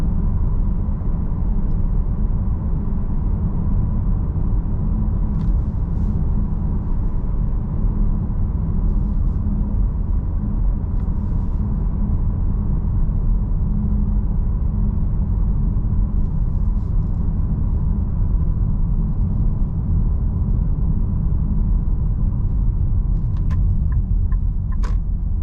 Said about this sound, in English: So very smooth drive at 70 kilometers per hour, which is the current speed limit here.